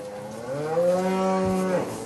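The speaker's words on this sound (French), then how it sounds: "Et ces vaches sont malades." Cattle lowing in a single sustained moo, a clear rich harmonic call lasting over a second, fairly close with no talk; the herd is black-coated cows with white spots on their hides.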